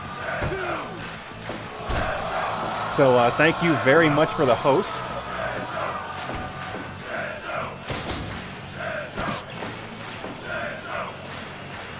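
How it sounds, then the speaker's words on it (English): Canned crowd noise played for a house wrestling dark match, a moderate, steady murmur of cheering with a burst of rhythmic chanting and thuds, while someone talks over it. "let me go ahead and get your crowd noise going for you"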